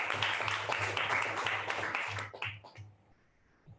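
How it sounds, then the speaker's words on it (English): A Toastmasters meeting audience gives a round of applause for Toastmaster Devi, a close burst of clapping that fades out after a few seconds. "Let's have a huge round of applause for Toastmaster Devi"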